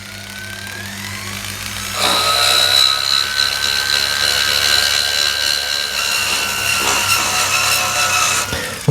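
A jeweller's burr in a rotary tool cuts seats into the claws of a no-solder four-prong setting for a faceted stone, a high, steady whine that starts abruptly, runs about six seconds with slight pitch wavering, then stops.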